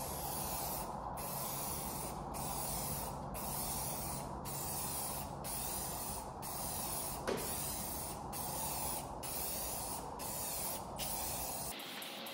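Varnish sprays onto a painting in a series of steady hissing bursts, each a little over a second long and split by brief pauses, close and even throughout.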